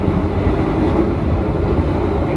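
The KA Kertanegara executive train speeds along the rails, a loud, dense, continuous rumble and roar of wheels on noisy track, heard close from inside the carriage with no break.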